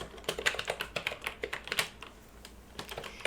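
Rapid clacking keystrokes on a computer keyboard, close and crisp, in quick irregular bursts with a brief pause partway through; no one speaks.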